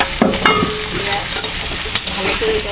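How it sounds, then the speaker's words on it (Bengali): Chicken and onion frying in a pan for a chicken paratha roll filling, with a spatula scraping and stirring through a steady close sizzle and occasional sharp clinks against the pan. "পেঁয়াজটা হালকা একটু বাজিয়ে দিব"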